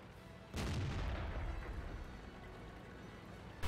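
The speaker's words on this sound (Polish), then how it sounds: "Won tą Artą, nie strzelaj do mnie." Artillery fires in the World of Tanks video game during an M60 Patton battle, a single heavy boom that hits hard and rolls off in a long fading rumble, with no talk over it.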